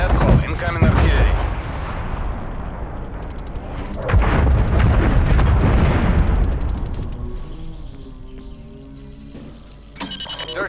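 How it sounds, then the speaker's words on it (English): An incoming artillery strike in Call of Duty Cold War: heavy booming explosions with long rumbling tails swell and fade over several seconds, close and loud, followed by ringing electronic tones, with voices heard in between. "Net call, incoming artillery."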